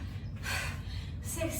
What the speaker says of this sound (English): Just taking a few seconds to breathe.